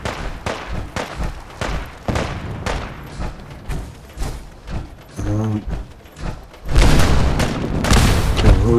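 Booming explosions and shots thud through a Fallout 4 battle at Bunker Hill, arriving as repeated heavy hits with gaps, then swelling into a dense, loud roar near the end.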